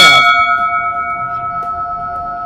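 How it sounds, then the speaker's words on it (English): A single loud bell strike in a Key West shipwreck museum tower, close by, then a long ringing tone that slowly fades and pulses gently. "each level has a"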